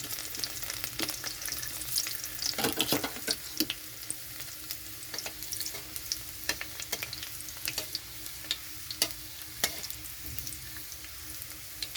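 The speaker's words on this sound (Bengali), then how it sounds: "কড়াইতে সর্ষের তেলটা গরম হয়ে গেছে।" Garlic sizzles and crackles in hot mustard oil in a wok, a steady close frying hiss broken by sharp pops and the scrape of stirring, with no voices.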